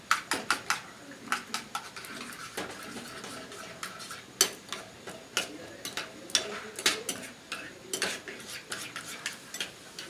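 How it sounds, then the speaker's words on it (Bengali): An egg is beaten in a bowl, with a rapid run of close, sharp clinking taps of utensil against the bowl in uneven bursts over a quiet kitchen background. "ভালো করে ডিমটাকে ফাটিয়ে নিতে হবে।"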